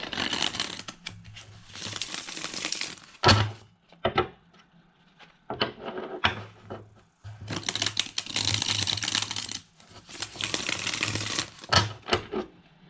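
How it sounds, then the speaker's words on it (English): Repeated crisp riffling and tapping of tarot cards being shuffled nearby, in bursts with short pauses between, no talking. "We're going to shuffle the cards first."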